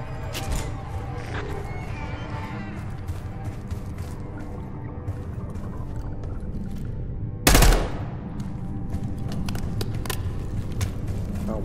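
Automatic weapon fire in the Call of Duty: Black Ops 6 campaign rattles in rapid bursts over a dense game background, with one loud sharp blast standing out partway through and no speech.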